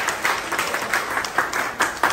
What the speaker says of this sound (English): can I get some claps?